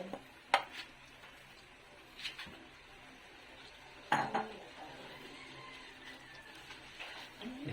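Vegetables go into a pot of miki guisado, the Filipino noodle dish, with a few scattered clinks and clatters of a utensil against the pot over a quiet kitchen background, sparse and fairly faint.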